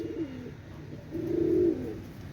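A pair of pigeons coo softly nearby, two low throaty rolling calls with a short pause between them, over a quiet background with no talking.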